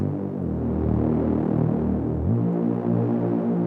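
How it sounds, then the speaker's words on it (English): Electronic Reese-style EDM bass with soft clip distortion and the drive turned up: a steady, thick, throbbing low drone that holds for several seconds, then shifts pitch slightly, with no voices. "I'm gonna do some soft clip distortion for this."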